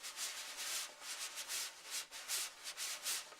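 Drum brushes swept across a drum head in a beginner's first attempt, producing a soft, breathy rubbing hiss in uneven pulses, faint and close with no voices.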